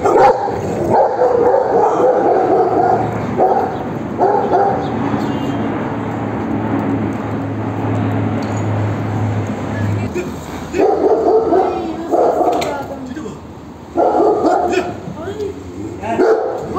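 A pack of street dogs barks and yips loudly in bursts, mixed with agitated Turkish voices talking over them and a low engine-like rumble partway through.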